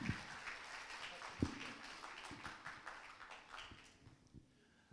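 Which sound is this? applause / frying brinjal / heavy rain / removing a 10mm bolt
applause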